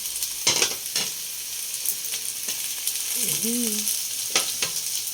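Corned beef and potato being sautéed in a pan: a steady close sizzle with scrapes and clinks from stirring, and a brief squeak partway through.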